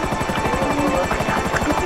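Loud helicopter rotor thumping in a fast, steady chop in GTA V Online, close by and continuous throughout.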